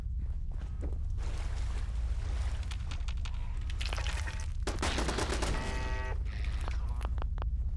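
Gunfire in the Fallout London game, rapid bursts of automatic shots and single cracks over a low rumbling backdrop, loud and busy with overlapping weapon fire.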